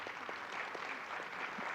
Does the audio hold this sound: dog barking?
no